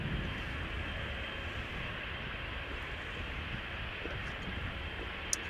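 An Embraer 190 airliner at Amsterdam Schiphol Airport, a steady, broad jet-engine roar heard at a distance and moderately quiet, holding constant throughout with no talking.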